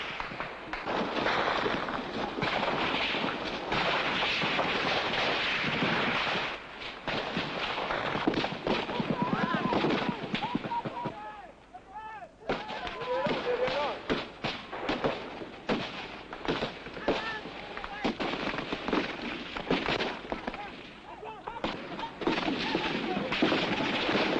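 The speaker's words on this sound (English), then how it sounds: "the rifle fire, light machine gun fire sounds extremely close overhead" Rifle and light machine gun fire in combat at Ikotek during the Biafran War, dense and continuous with rapid bursts and scattered sharp cracks close by, with voices audible beneath the gunfire.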